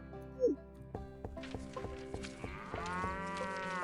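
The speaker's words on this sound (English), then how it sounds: "thank you for your daily moo" A cow moo plays as a livestream alert, one short low call followed by farm ambience with hoof-like knocks and a rising tonal swell, heard under a quiet room.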